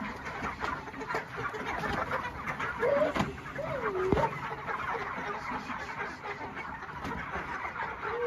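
Chickens cluck and squawk in a shed while they are herded to one side and into netting, with scattered calls rising over a steady background of rustling and movement.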